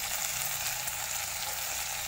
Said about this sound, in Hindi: फिश 5 मिनट हो चुका है, अब इसे मैं पलट देती हूँ धीरे धीरे